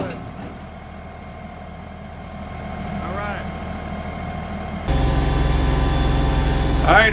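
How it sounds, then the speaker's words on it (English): Tractor engine droning while driving, a steady low rumble that grows louder partway through, with someone talking over it. "here we are driving in the tractor"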